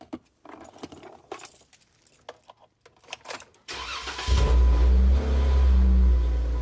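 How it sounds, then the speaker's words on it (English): Keys jangle and clicks sound inside a Jeep JKU before the engine cranks and catches, settling into a loud, deep, steady idle close by. "Start the Jeep so you can hear it."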